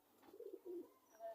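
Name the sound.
pigeons cooing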